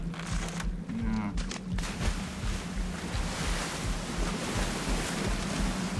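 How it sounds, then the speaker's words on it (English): Water splashes and washes continuously in the survival video game Ark Survival Evolved, a broad, steady rushing surf-like wash with faint wind, moderately loud throughout with no clear talk. "I heard splashing."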